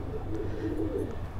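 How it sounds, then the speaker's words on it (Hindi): Breeding pigeons in a loft cooing, a few soft, low rolling coos close by, brief and repeated over a steady background. "मैं तुम्हें अपने ब्रीडिंग वाले कबूतर दिखाता हूँ"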